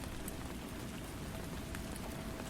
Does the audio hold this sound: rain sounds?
yes